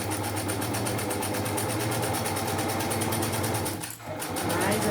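A domestic sewing machine runs steadily stitching a seam on a fabric 3D pencil case, a continuous fast whirring hum with a brief pause and restart near the end.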